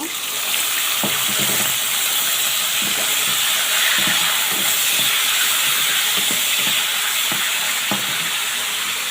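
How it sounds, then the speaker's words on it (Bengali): Shrimp fry in hot oil in a home kitchen, giving a loud, steady sizzle with bright crackling and occasional spits and clinks from stirring. "চিংড়ি মাছটা ভেজে নেব"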